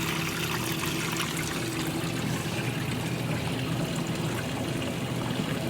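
Steady rushing flow of dirty water draining out of a washing machine, a constant nearby pouring trickle layered over a low humming drone, with no pauses.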